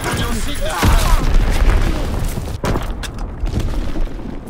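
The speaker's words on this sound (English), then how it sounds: "Dropping Fritz X bomb." A heavy, booming explosion from a Fritz X bomb in Call of Duty WWII thuds into rumbling debris, followed by a second sharp blast, with announcer voices talking over the game sounds.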